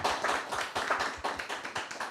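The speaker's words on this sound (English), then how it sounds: "Round of applause, guys." Audience applause at a live church-community event, steady rapid clapping from a crowd sustained throughout at close range with no voices over it.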